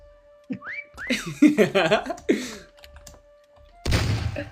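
A person whistles a short, wavering tune while playing a Minecraft chameleon game, the rising and falling notes clear and close, ending in a burst of noise.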